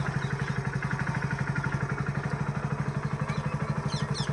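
A motorcycle engine runs steadily up close, a throbbing, even idle-like pulse that holds for the whole stretch with no speech over it.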